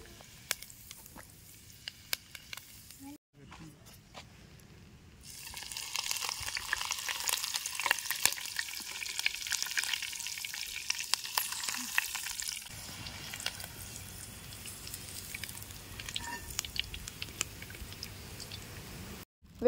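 Curry leaves and chillies fry in hot oil as a garnish for kaju chicken pakoda, prepared outdoors in a mango orchard. A soft crackling sizzle swells midway, then settles to a faint hiss.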